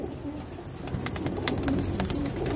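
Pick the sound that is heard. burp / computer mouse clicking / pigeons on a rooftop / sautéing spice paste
pigeons on a rooftop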